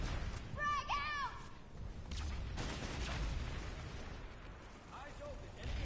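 Frag grenade blasts in the shooter game Planetside 2 rumble as dull, low booms amid ongoing battle noise, while synthetic voice callouts chirp over the fight.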